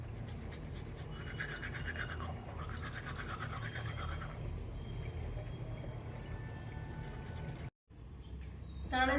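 Toothbrush scrubbing teeth close up, a continuous wet brushing rasp with shifting strokes, briefly stopping near the end before resuming.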